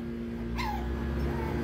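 Lhasa Apso puppies playing outdoors give one short high whimpering yip and a fainter trailing whine over a steady low background hum.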